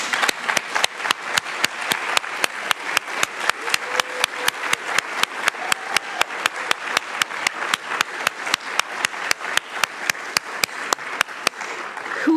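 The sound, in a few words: audience applause at an award ceremony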